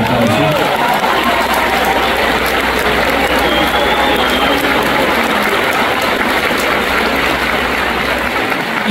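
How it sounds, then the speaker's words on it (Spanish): A concert audience at a live performance of a song applauds, a steady loud wash of many hands clapping that fills the whole stretch without a break. "Y nos alegran esos aplausos"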